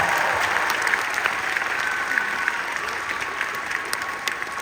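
Steady applause from an audience, dense clapping that holds throughout at an even level with no voices over it.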